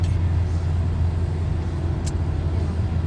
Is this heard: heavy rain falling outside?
no